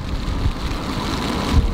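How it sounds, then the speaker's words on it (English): Heavy rain pounds steadily on a VW California camper van during Storm Denis, a dense continuous roar heard from inside, close and loud with no talking. "it's pissing rain"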